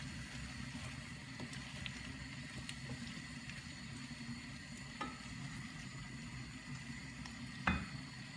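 Cooked potatoes being stirred slowly in a pan for Indian pindya and aloo, a steady low sizzling bed with a few soft scrapes and a sharper clink near the end, no voices.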